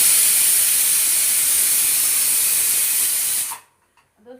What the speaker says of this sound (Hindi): बताइए 12 बजे हम दाल चावल भून रहे हैं।